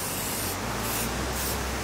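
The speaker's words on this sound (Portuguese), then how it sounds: "O Léo tá fazendo pichação ali." A spray paint can hissing steadily as graffiti is sprayed, a continuous close, loud spray with slight pulses in intensity.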